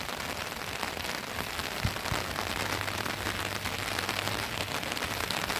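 Steady rain pours down on a tropical farm with fruit trees and a small hut, a dense, even hiss throughout. A couple of faint knocks sound beneath it, and no one speaks.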